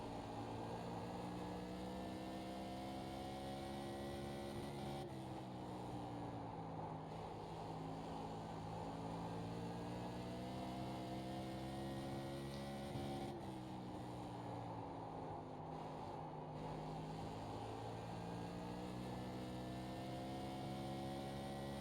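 A Tour Modified race car engine in iRacing drones steadily through a lap at Nashville Fairgrounds, loud and continuous from an in-car view, its pitch climbing and briefly dipping twice as the driver lifts and gets back on the throttle.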